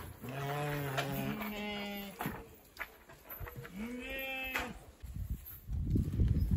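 Sheep on a farm in Saint-Louis bleat close by, a few wavering calls overlapping early on, then another long bleat after a pause, with shuffling and rustling noise toward the end.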